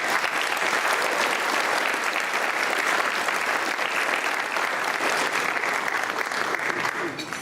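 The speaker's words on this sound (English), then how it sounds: "Please give them a round of applause." Sustained audience applause at a community unity dinner, dense and steady throughout with no break, filling the room at an even loudness.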